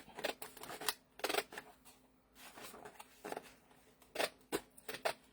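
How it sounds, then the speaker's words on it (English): Scissors snip through a paper print for a junk journal, a series of crisp, close cutting strokes in irregular bursts with brief pauses between them, fairly quiet and with no talking. "I'm going to cut this whole thing out"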